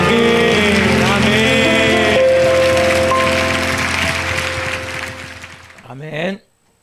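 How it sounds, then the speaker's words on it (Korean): A church congregation at a Wednesday evening service claps in a steady, dense wash that slowly thins and fades out, with a voice speaking over it at the start. "하나님 앞에 영광과 감사의 박수 올려드리겠습니다"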